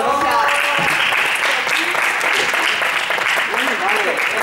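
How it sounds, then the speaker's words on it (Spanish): Loud, dense applause from a group at a team event fills the whole stretch, close and continuous, with a few voices calling out over it. "Un aplauso, ¿no?"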